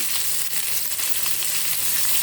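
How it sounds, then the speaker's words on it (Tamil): Onion sautéing in a pan for a spinach greens thokku, a constant, loud, close sizzle with light crackles and no speech. "இதை வதக்கிப்போம்."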